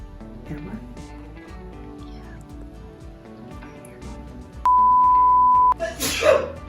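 After quiet talking and a steady electronic beep, a single sharp sneeze bursts out near the end, close and loud.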